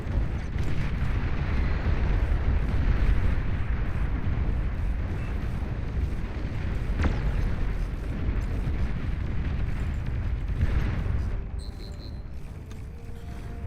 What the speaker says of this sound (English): Orbital cannon's pretty good.